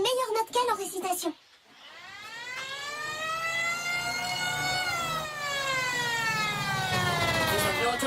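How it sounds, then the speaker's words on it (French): A wailing fire engine siren taken from a car rises and falls in long sweeping tones, loud and close, starting after a brief burst of other sounds and then sounding on its own. "J'ai récupéré une sirène de pompier dans une caisse auto."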